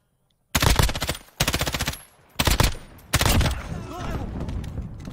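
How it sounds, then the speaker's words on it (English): Gunfire from the video game Warzone aimed at a player's shield, loud, close bursts of rapid automatic fire separated by short gaps, followed by a longer sustained burst that trails off into noisy clatter. "They're trying to shoot through my shield, but I can't."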